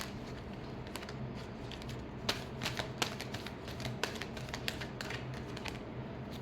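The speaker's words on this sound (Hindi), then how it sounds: "Last shuffle." Tarot cards shuffled close by in a quiet room, a steady soft riffling patter with sharper flicking clicks scattered throughout.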